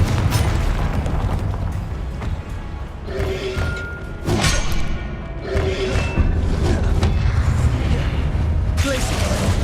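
Confringo blasting spells in the video game Hogwarts Legacy go off as repeated booming explosions and bursts over a dense, continuous game soundscape, with a voice speaking between the blasts.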